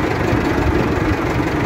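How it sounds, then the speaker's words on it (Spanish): A Ford 6610 tractor engine runs steadily while the tractor drives in a high gear, a loud, low diesel rumble with constant knocking texture and no talk. "y miren cómo se desplaza el tractor"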